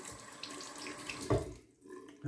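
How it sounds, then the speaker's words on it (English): Water runs steadily from a tap into a basin, a continuous splashing hiss with a brief louder gush near the end, close and alone. "Adding a little bit more water to this."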